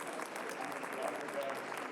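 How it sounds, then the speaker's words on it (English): A convention crowd at a nostalgia con in Anaheim gives a steady round of applause, fairly distant and even, with faint voices mixed in. "Round of applause, everybody."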